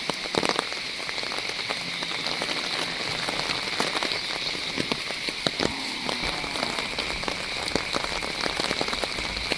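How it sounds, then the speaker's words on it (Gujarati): Heavy monsoon rain pours steadily in Gujarat, a dense, even hiss of drops drumming on surfaces with frequent close splatters and no voices. "આખી રાતનું પાણી વરસાદ ચાલુ છે."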